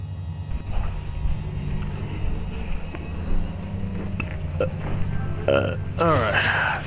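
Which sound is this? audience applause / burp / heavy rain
burp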